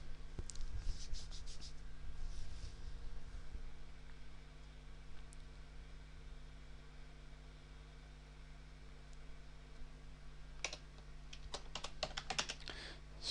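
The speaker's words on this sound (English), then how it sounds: "So again, we type our keyword phrase into this box." Typing on a computer keyboard while entering a search phrase, with bursts of quick, close key clicks at the start and end and a quieter stretch between, over a steady low hum.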